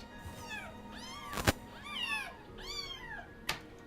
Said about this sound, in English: So another one I took is some baby kittens.